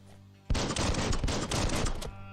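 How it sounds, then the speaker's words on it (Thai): Rapid automatic gunfire from a gun in the video game Biomutant, a loud sustained burst of close shots with a steady rattling rhythm lasting about two seconds after a quiet start. "R2 ยิงปืน"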